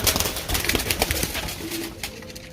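Pigeons kept by a breeder, with several birds present, give soft throaty coos and rustling flutters close by, a busy, continuous jumble of bird sounds without speech.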